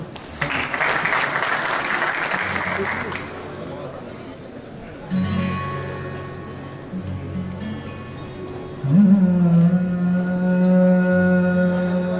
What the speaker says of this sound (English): Once again, one more round of applause for them.